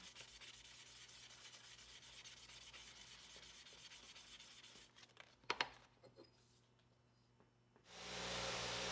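Steady hand sanding on aluminum with 500 grit sandpaper, a continuous raspy scratching that pauses with a few taps before a louder hiss starts near the end.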